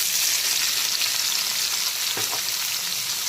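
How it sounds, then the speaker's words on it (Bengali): Chopped onions fry in oil with bay leaf and black cumin for a prawn bhuna, giving a steady, dense crackling sizzle close by, with one brief soft clatter midway and no voices. "এখন দিয়ে দিচ্ছি পেঁয়াজ কুচি।"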